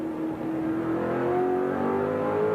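Glenn Seaton's car number 30 Peter Jackson Ford Falcon racing in the 1993 Bathurst 1000, heard from on board: a loud, steady engine drone climbing gradually in pitch as it holds high revs.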